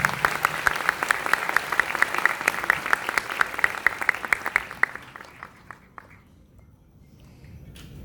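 An audience welcomes a chairman onto a stage with rhythmic, fairly close clapping, sharp regular claps for about five seconds that then thin out and fade into near silence.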